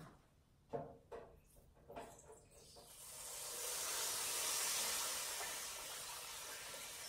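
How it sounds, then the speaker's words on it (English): Apple turnover frying in a deep fryer: a few faint clunks and splashes as it goes in, then a bright, steady hiss of bubbling oil that swells and holds near and fairly loud. "My deep fryer is ready, so I'm going to just put it in."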